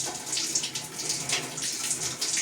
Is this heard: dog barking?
no